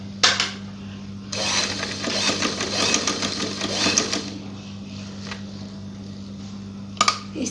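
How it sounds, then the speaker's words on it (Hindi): A sewing machine stitches a men's shirt collar band with black thread in one close, steady whirring run of a few seconds, bracketed by brief clicks over a low constant hum. "हम सिलाई शुरू करते हैं"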